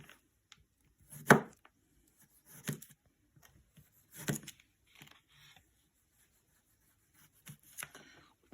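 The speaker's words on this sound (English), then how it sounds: "we're just gonna do thin slices of the radish" A knife cutting thin slices of radish on a board, a few separate crisp chops spaced out with quiet gaps between them, close and fairly soft.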